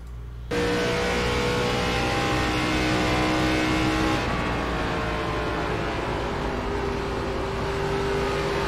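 An ARCA race car's engine roars loud and steady through a lap at Homestead Miami Speedway, with pitch wavering and shifting as the throttle rises and falls, filling the whole stretch without talking.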